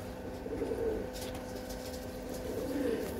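A female flying pigeon coos low and steady in two soft swells, set against constant background hum with no voices.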